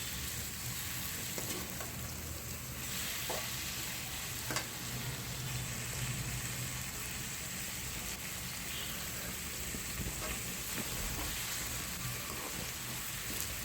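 Salted tomatoes sauté in a pan for a traditional chicken gravy, giving a soft, even sizzle with faint crackles and light stirring taps throughout.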